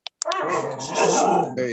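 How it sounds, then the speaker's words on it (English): Dogs growl and grumble in a close, continuous rumble while playing, with someone speaking briefly at the start. "I'm sorry for the dogs."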